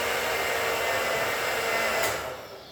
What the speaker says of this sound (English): Now I'm going to process this. You're going to hear a lot of noise.